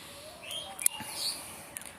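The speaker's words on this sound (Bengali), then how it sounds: "অনেক পাখির কিচিরমিচির আওয়াজ কিন্তু শোনা যাচ্ছে এদিকে" Several birds chirp and tweet in short, scattered bursts at moderate distance over a quiet, soft background.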